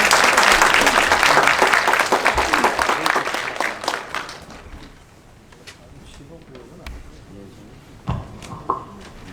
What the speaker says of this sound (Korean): 여러분 박수 주시기 바랍니다.